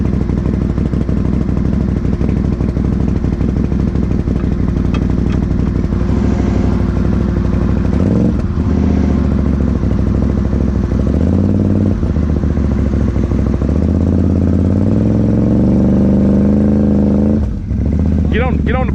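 A Can-Am Outlander 570 ATV engine idles and revs loudly up close after the machine flipped, a steady chugging drone rising and falling in pitch, with people talking over it.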